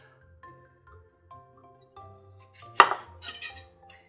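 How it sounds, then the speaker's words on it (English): A knife cuts the ends off oranges on a board, a single sharp chop and crunch standing out against quiet background music, followed by a brief softer scrape. "you want to cut your ends off"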